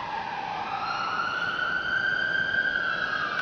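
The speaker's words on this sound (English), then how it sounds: "That's another ambulance today" Ambulance siren passing in the street, a loud wailing tone that rises steadily, heard alone over traffic noise.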